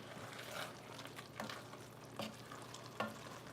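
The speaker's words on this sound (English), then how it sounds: "so let's give this a stir" Milk being stirred into a one-pot Italian sausage and potato casserole with a little flour, giving soft scraping and wet swishing strokes in a steady rhythm, with a few sharper spoon knocks against the pot, close and fairly quiet with no talking.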